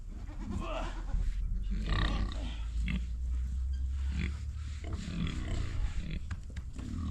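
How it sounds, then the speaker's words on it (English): A big pig grunts and snorts up close in a run of deep, rough, irregular grunts that carry on throughout, with a person's faint voice now and then. "That's my big pig."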